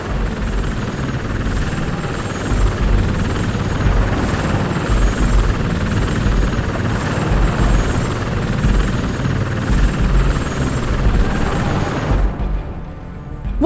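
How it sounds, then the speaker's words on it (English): A helicopter in the PS2 game Robot Alchemic Drive flies nearby with loud, continuous rotor noise, which cuts off abruptly near the end. "What's that helicopter trying to do?"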